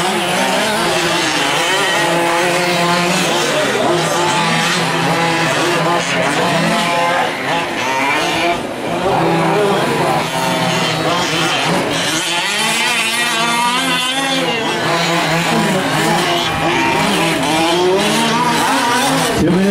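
Fifth-scale RC race trucks and a two-wheel-drive buggy, including a green four-wheel-drive truck, scream around a track, their engines revving and whining in overlapping passes with tire squeal. The sound stays loud and continuous throughout.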